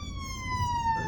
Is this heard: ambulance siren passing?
yes